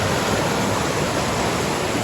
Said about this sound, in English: So this is actually the Ankasa River.